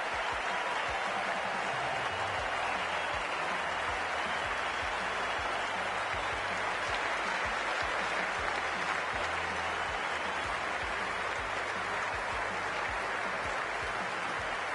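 A large cricket stadium crowd at an England versus South Africa T20 match applauds, a steady, dense wash of clapping and crowd noise that holds evenly throughout without pauses.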